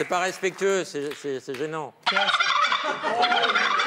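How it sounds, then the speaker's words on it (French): Turkeys gobble in rapid, warbling bursts, dubbed as the sound of ostriches passing in a TV farm show's opening credits, loud and close for about two seconds before noisy laughter and chatter take over. "ils ont bruité les autruches qui passent dans le générique avec des dindons."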